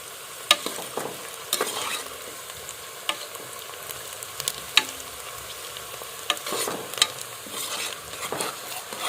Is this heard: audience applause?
no